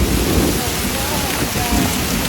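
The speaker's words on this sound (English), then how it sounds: "The sound of the approaching storm was described by many as a freight train" A hailstorm with rain and thunder sweeps over Sanger, Texas: a dense, loud, continuous hiss of falling precipitation with a deep low rumble underneath, steady across the whole stretch.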